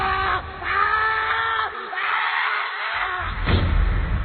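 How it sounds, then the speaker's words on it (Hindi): A writer's loud scream in a horror story scene: a harsh, shrill human shriek rising over a tense, noisy backdrop, with a second strained cry near the end, loud and close. "कुछ देर बाद लेखक की एक जोर से चीख सुनाई देती है"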